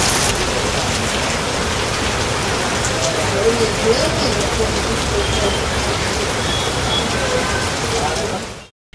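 Heavy rain pours down in a dense, steady hiss that stays loud and unbroken for about nine seconds, then cuts off abruptly.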